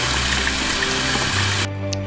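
Tap water runs steadily into a bowl holding tuna, a close, loud hiss and splash that cuts off abruptly near the end, leaving a quieter background hum.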